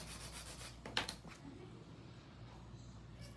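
A nail file rasps briefly across acrylic nails, a short scratchy rub close up that fades into quiet room tone.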